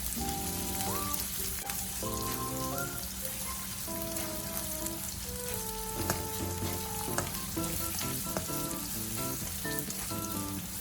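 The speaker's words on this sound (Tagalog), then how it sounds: "isunod na natin ating onions. Isutay natin ito for about 2 to 3 minutes hanggang sa mag-caramelize" Onions sauté after garlic in a pan for chicken liver adobo, giving a steady close sizzle with dense crackling and popping throughout, with no talk over it.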